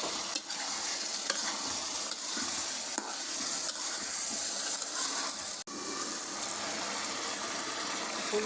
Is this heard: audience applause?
no